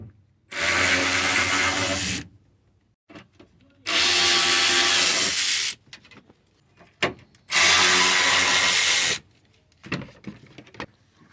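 A power tool whirs in three loud, sustained bursts of about two seconds each while backing 10mm bolts out of a plastic cover on a Mazda MPV 3.0 minivan, with short gaps of clanks and handling noise between runs.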